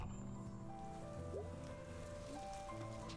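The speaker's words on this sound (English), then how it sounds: "Yeah, it's raining." Steady rain falls in the video game Night in the Woods, a soft, even patter that stays continuous throughout, with low musical tones running underneath.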